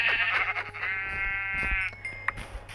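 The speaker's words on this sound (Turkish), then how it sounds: "Şu koyunu öldürüyorum." A Minecraft sheep lets out a drawn-out, wavering bleat, clear and close, with faint game background noise and a couple of soft thuds around it.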